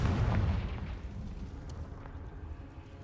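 A Confringo blasting spell explodes in Hogwarts Legacy, a loud deep boom at the start that rumbles and fades into a lingering low roar.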